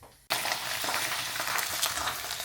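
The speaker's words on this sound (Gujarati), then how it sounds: "હવે ભૂંગળા ફ્રાય કરી નાખીએ" Bhungla fryums dropped into hot oil burst into a loud, steady sizzle after a brief quiet moment, the bubbling hiss continuing unbroken to the end.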